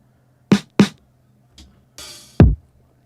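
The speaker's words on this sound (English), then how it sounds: "this is the sound of my drums going through a sub-bus, a submix, a drum bus" A handful of sparse, punchy drum hits through a drum bus submix: two quick thumps, a soft tap, a brief hiss of cymbal, then a final heavy, booming hit.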